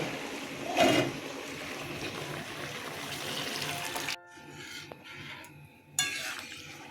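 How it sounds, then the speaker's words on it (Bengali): Mung dal poured into a pot of boiling bottle gourd, giving a watery splash and pour close up, then a quieter stretch of simmering bubbles with a few light clinks of a spoon on the pot. "দেখুন কতটা জল উঠেছে লাউটাও প্রায় সেদ্ধ হয়ে গেছে আমি ডালটা এখন এখানে ঢেলে দেব"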